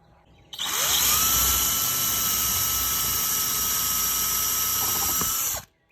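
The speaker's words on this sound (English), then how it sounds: "There, you got that one drilled out, and the 3 bolts are in." Power drill boring mounting holes for a Minn Kota bow-mount trolling motor on a boat, a loud steady high-pitched whine that spins up, holds for about five seconds and cuts off, with no talk.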